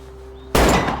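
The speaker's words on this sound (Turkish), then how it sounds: "Ha kapıyı kırdı." An indoor door is forced and broken in with one sudden loud, heavy crash and a brief rattling, booming tail, after a quiet hum.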